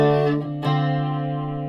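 An electric guitar chord rings out through a chorus pedal with no reverb, a sustained shimmering tone with a second strum partway through, close and loud, no voices.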